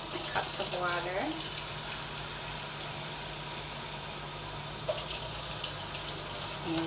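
Water is poured into cups to measure a container's capacity, giving a continuous close rushing splash that runs steadily for several seconds; a voice speaks briefly at the start.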